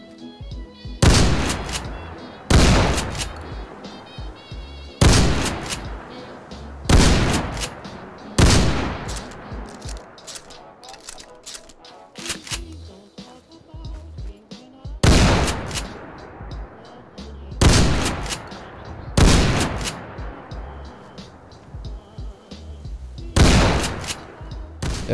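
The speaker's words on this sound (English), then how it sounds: "So I went to the in-game gun range, just beside Sanctuary, and tried to shoot some bottles." Ithaca Model 37 pump-action shotgun firing slugs at bottles on a gun range in the Fallout 4 video game, loud sharp blasts repeated about a dozen times, singly and in quick pairs, with reverberant tails between shots.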